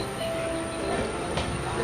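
An Amrit Bharat Express train runs steadily between NJP and Kolkata, heard from inside a coach as a continuous rumble with metallic wheel squeal and a brief rattle midway, fairly loud and steady.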